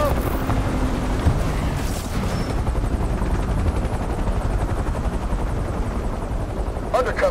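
In the NFS Unbound video game, a police helicopter lifts off with a loud, steady rotor roar and engine rumble that fills the whole stretch, while radio voices talk over it.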